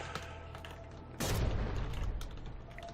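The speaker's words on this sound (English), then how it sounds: "The green tracer shell heading towards the Bathtub Tug" A From the Depths naval battle with a green tracer shell fired toward the Bathtub Tug: a sudden loud blast leads into a rumbling burst of gunfire, with faint mechanical clatter before it.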